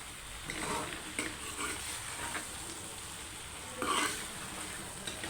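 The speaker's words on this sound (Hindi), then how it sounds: "जब तक ऑयल ना निकल आए जब तक आपने भिंडियों को पकाते रहना है" Okra (bhindi) sizzles in hot oil in a pan, a dense steady frying hiss with periodic scraping bursts as a spoon stirs, close and without talk.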